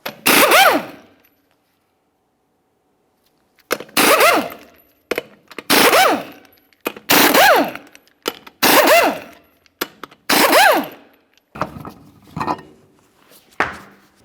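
Repeated loud bursts of an impact wrench spinning off the 22mm lug nuts on the front wheel of a 1999-2006 Chevrolet Silverado 1500, each short rattling burst separated by pauses, with no talk.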